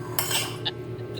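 Pansit canton noodles being stirred in a pan, close clinks and scrapes of a metal utensil against the pan in a quick irregular series with no talking.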